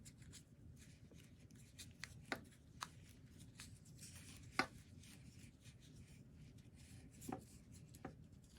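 Floral tape is wrapped around a paper hyacinth stem, making a soft, continuous rubbing and crinkling close by. Faint scattered ticks and a few slightly sharper taps punctuate it, and no one speaks.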